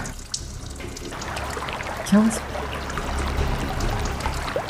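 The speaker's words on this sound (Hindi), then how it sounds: "पानी बहने की आवाज आ रही है।" Water runs steadily from a tap at a moderate level in the background, with brief speech and a short voice near the middle.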